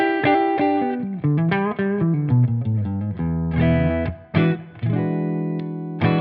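Clean electric guitar phrases on the neck pickup ring out alone, with picked single notes and chords, bright and sustained, with short gaps between phrases.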